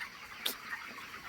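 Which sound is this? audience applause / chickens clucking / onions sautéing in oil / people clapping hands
chickens clucking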